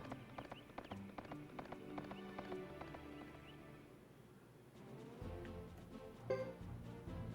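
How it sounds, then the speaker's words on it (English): Horses' hooves clip-clopping in the PlayStation 2 game Suikoden III, a quick regular clatter of hoofbeats with a whinny and other game sounds following, faint overall. "three of the Zex knights, they're riding on horses"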